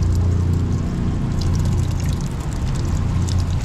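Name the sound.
liquid dripping while draining in sisig cooking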